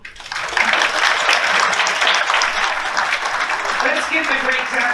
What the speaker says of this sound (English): Let's give the great doctor a round of applause.